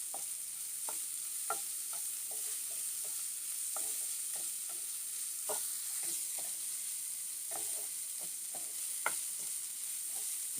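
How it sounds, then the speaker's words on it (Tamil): Chopped tomato and onion sizzle steadily while being sautéed in a pan, with a constant frying hiss and the occasional scrape of a stirring spoon, no talking. "நல்லா வதங்கட்டும்."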